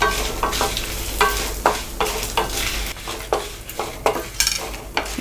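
Curry leaves and dry red chillies fry in hot oil for a moong dal sambar tempering, a loud steady sizzle broken by rhythmic scraping stirs of a spoon against the pan.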